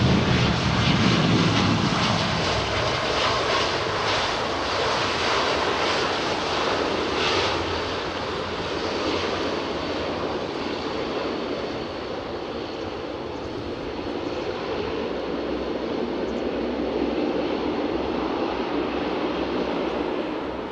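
An airliner arrives on runway 27R at London Heathrow with a loud jet engine roar, strongest at the start as it passes close, then easing into a steady, slowly fading rumble.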